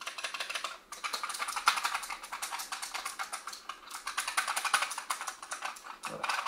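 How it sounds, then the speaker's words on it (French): Typing on a Razer Huntsman Mini mechanical keyboard, rapid dense clicks and clacks in a fast uneven rhythm, close and crisp, with a short pause near one second and another near four seconds. "Le bruit du clavier, en fait, il est présent comme sur un clavier mécanique classique."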